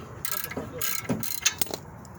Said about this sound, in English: I was able to sneak my ratchet underneath that, so go ahead and loosen that up.